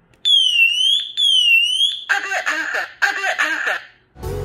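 A standalone smoke detector's shrill electronic alarm wails in repeated sweeping tones, then switches to a harsh pulsing blare in two bursts before cutting off abruptly.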